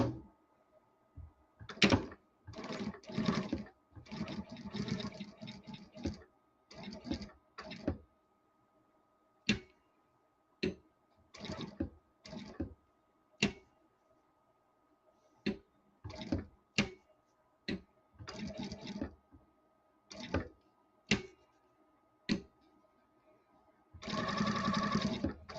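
A sewing machine top stitching doll clothes runs in repeated short bursts separated by pauses, each burst a fast mechanical whir, with a longer final run at the end.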